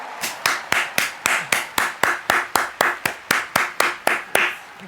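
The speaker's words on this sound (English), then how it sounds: "a round of applause for them" A steady round of clapping at The Game Awards 2024, about three sharp claps per second, crisp and close, continuing evenly with no voices.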